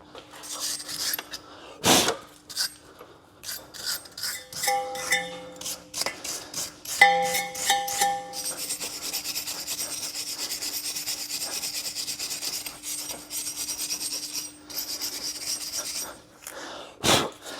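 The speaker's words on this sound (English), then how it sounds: "So we just clean this up with a wire brush, so when the new disc goes on, it's got a nice flat, even surface to sit onto." Wire brush scrubbing a corroded brake hub face on a Renault Trafic during a disc change, heard as repeated close, harsh scraping strokes with short pauses and a steady broadband rasp through the latter half.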